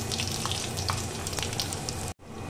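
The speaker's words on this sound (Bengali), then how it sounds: "সর্ষের তেলটাও গরম হয়ে গেছে। এবার আমি দিয়ে দেব এখানে পাঁচফোড়ন।" Panch phoron spices sizzle steadily in hot mustard oil in a wok, a dense crackling fry close by that cuts off abruptly near the end.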